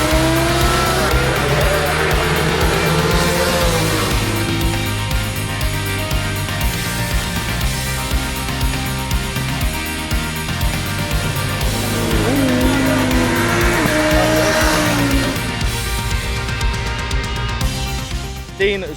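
Loud racing motorcycle engines roar and scream past at speed around the Olivers Mount road circuit, pitch rising and falling as superbikes sweep by close, with a crowd-like wash underneath.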